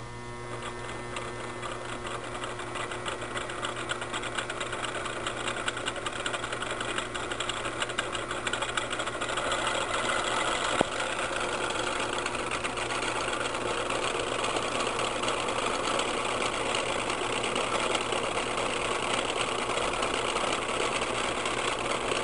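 A three-phase electric motor runs on an adjustable-voltage power supply, giving a steady, continuous hum and whine at constant loudness with no talk over it.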